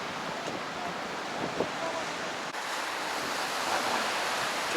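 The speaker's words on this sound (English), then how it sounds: "Looks a bit rough, the sea right now, because it's quite windy here." Choppy waves wash and break continuously on a rough sea off Sliema, Malta, while gusty wind buffets the microphone, moderately loud and steady throughout.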